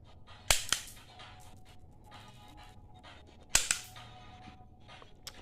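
Toy gun fired at a cardboard target, giving sharp, crisp cracking pops: two quick shots, then a single shot a few seconds later, close and loud over quiet room noise.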